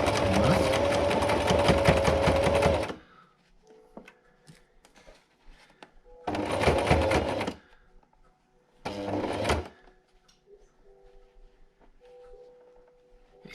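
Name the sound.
sewing machine stitching the edge of a fabric mask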